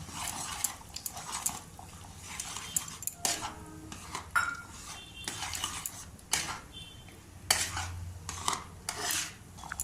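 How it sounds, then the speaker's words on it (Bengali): Lemon-curdled chhana tipped into a pan of milky malai paneer gravy and stirred, with scraping spoon-on-pan clatter and bursts of clinking in an irregular rhythm, close and moderately loud, no talking. "যে আমি ছানাটা লেবু দিয়ে কেটে রেখেছিলাম সেটা আমি এবার এখানে দিয়ে দিচ্ছি"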